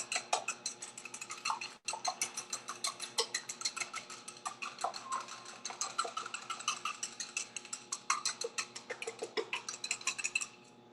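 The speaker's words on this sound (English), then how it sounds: "we want to whisk these together" An egg is whisked by hand in a bowl for bread dough, making a steady fast clicking and scraping rhythm that continues throughout with one brief pause, close and clear.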